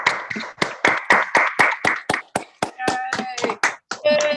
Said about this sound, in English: Let us all now turn on our microphones and give an audible round of applause